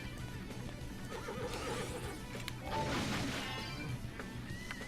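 A horse in the video game Soul Reaver lets out a neigh, a single whinny rising over the game's steady background sound and effects.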